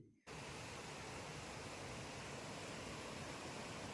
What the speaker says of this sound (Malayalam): അതാ കാണുന്ന ആ കാണുന്ന അതാണ് മീൻമുട്ടി വെള്ളച്ചാട്ടം